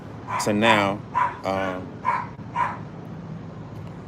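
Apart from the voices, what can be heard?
dog barking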